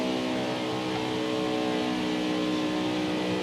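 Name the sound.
race car engine on victory lap, NASCAR Heat 5 video game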